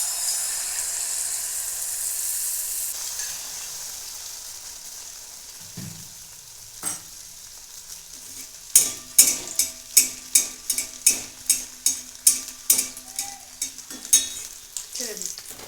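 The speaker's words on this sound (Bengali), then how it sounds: "তেলটা গরম হয়ে গেছে, এখন আমি একে একে ভেজে নেব।" Pieces of bread frying in hot white oil in a wok, a steady sizzle at first, then a run of about a dozen sharp, evenly spaced clatters as a ladle stirs and turns them.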